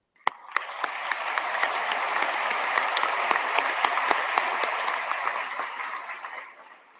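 An audience at a university graduation ceremony breaks into applause: a dense, steady clapping that swells quickly, holds for several seconds and then tapers off.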